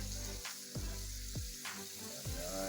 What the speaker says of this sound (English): Then we'll also add our shrimp in there.